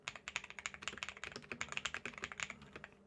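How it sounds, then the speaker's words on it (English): Rapid, even keystrokes on a £22 AliExpress mechanical keyboard modded with tape and new switches, a close, crisp stream of clicky clacks with no voices. "that's the keyboard, guys."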